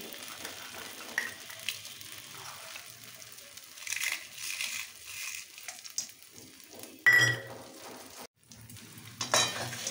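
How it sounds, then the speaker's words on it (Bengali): Fried lentil dumplings are crumbled by hand into spinach cooking in a pan, with soft crunching and cracking over a low sizzle, a few scrapes of a utensil and one sharp clatter, close and quiet. "ভাজা বড়িগুলো এইভাবে ভেঙে ভেঙে দিচ্ছি।"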